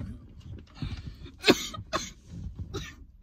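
Several harsh coughs from people taking part in a hotbox challenge with college friends, with one loud bark near the middle and a few lighter ones after it, all close by in a small space.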